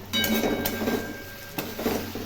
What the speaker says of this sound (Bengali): এবার আমি এই ভেজে রাখা বেগুন আর আলুগুলো আমি দিয়ে দেবো এবার এর সাথে সাথে কষতে থাকবো আমি